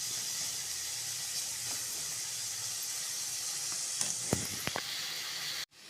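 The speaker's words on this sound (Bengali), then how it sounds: "কিছুটা ভাজা হবে, 10 মিনিট মতো গ্যাসটা সিম করে ভাজবেন।" Potatoes and onions fry on low gas as a quiet, steady sizzle with faint hiss, a few brief scrapes of stirring near the end, then a sudden drop to near silence.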